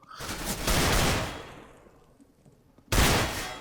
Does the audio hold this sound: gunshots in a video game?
yes